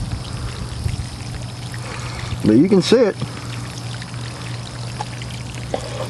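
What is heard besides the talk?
water flowing from rain barrel valve through PVC irrigation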